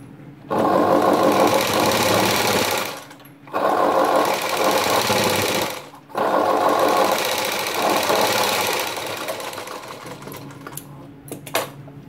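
A sewing machine stitches the lining into a full sleeve in three loud, steady bursts separated by short pauses, then fades into lighter handling noises.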